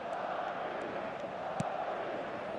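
A steady roar from a stadium crowd on matchday in an eFootball 2025 match fills the space, a broad constant wash of massed voices with a single faint thud partway through.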